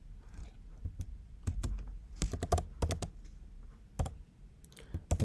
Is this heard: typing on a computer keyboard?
yes